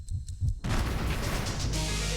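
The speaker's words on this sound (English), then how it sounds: "A series of massive explosions devastates the Mexican city of Guadalajara." A massive explosion from a broken gasoline pipe in Guadalajara, Mexico, lands as a sudden heavy blast after a few low thumps, then gives way to a sustained loud roaring rumble of debris and fire.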